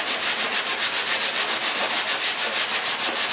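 Hand sanding a dent in a steel body panel on a 1965 Ford Galaxie, a loud, steady rasping scrub in quick regular back-and-forth strokes, close and uninterrupted.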